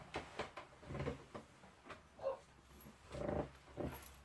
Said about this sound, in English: I'm sorry if you can hear the dog barking